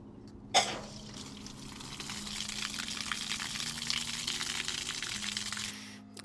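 Water rushes steadily through a Frizzlife LP365 auto shut-off valve in a home plumbing line, a continuous hissing flow after a sharp knock at the start, ending abruptly as it cuts off.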